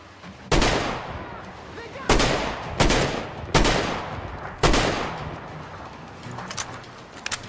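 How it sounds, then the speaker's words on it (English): Heavy gunfire in Metro Exodus, five loud close shots spaced about a second apart, each ringing out with a long echoing tail, followed by a few faint softer clicks and thuds. "Bullet whizzed by his head."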